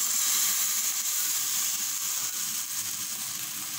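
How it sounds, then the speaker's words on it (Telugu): Tomato paste fries in a hot pan for a restaurant-style paneer dish, giving a steady, bright sizzle and hiss that runs close and continuous without any voices. "దీన్ని బాగా ఫ్రై అవనిద్దాం"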